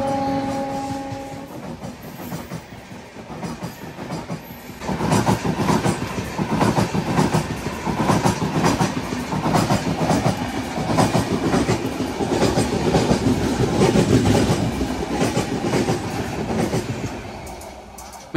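DEMU diesel-electric multiple unit train running on rails between Nandyal and Kurnool City, with steady loud rumbling, rhythmic wheel clatter, and onboard rail noise that swells after a quieter opening few seconds.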